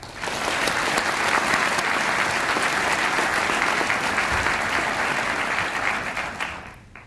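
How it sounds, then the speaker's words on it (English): Large audience at a university chancellor's installation ceremony breaks into sustained, even applause, a full and steady roar of clapping that holds for several seconds and fades near the end. "Please now join me in acknowledging these members with your applause."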